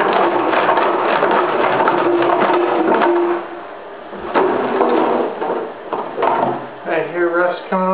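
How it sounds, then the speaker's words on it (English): Rust and rough scale being scraped off a metal intake manifold tank, a steady rasping grind that runs continuously, dips briefly, then returns in uneven strokes toward the end. "I hear rust coming off already."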